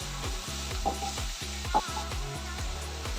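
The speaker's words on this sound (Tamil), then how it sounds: "வெங்காயம் தக்காளி ரெண்டு கொஞ்சம் வதங்கட்டும்" Chopped onions and tomatoes sautéing in a pan, a steady close sizzle with rhythmic spatula strokes scraping and tapping the pan every half second or so.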